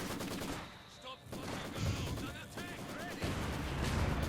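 Mortar and machine gun fire in Company of Heroes 2, a World War II strategy game battle, with sustained rattling bursts and booming impacts under dense battle noise, and a caster talking over the gunfire.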